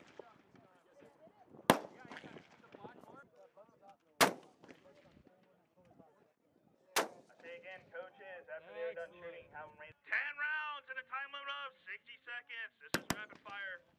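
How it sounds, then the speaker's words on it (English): Gunfire rings out at a firing range during an educators' workshop, four or five sharp, loud single reports spaced a few seconds apart, with people talking in between and over the shots. "we're about to begin firing"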